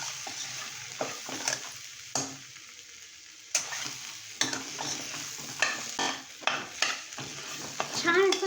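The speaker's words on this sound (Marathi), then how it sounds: "आणि आता हे बटाटे उकडलेले आहेत ते आपण ह्याच्यामध्ये टाकूया." A spoon stirs boiled potatoes into a frying pan for potato and green pea bhaji, with soft sizzling and repeated scraping strokes against the pan, close and moderately loud.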